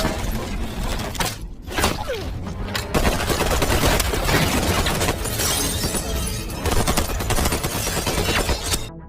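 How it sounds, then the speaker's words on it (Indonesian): Bursts of automatic gunfire and rapid shots from an action film, dense and loud, crackling with sharp impacts and shattering sounds across the whole stretch. "Santilah yang pada akhirnya diberondong tembakan beruntun oleh para anak buah Frank."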